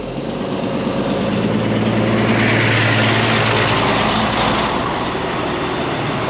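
A loaded truck drives away on a frozen ice road, a continuous loud engine rumble and tire roar that stays steady and close throughout, with no speech.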